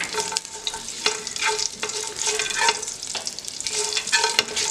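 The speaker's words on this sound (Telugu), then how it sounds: "ఇవి మనం కొద్దిగా ఒక ఫ్లేవర్ బయటకు వచ్చే వరకు ఫ్రై చేద్దాము" Spices and three green chillies frying in a pan for a rice dish, a continuous close sizzle broken by repeated scraping stir strokes at a steady rhythm, with no talking.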